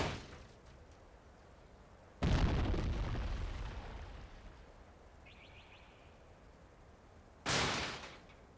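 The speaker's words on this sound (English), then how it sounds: "it looks like most of the shells land on the mortar pit" Artillery shells exploding on a mortar pit in Company of Heroes 2, two sharp booming blasts a few seconds apart, each decaying in a rumbling tail, with a faint clink between them.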